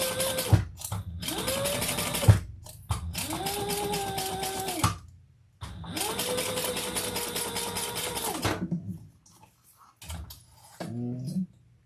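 A sewing machine stitches in several sustained runs, humming steadily with a rising and falling motor whine, separated by brief stops and clicks. The runs are close and moderately loud, and there is no talk during them.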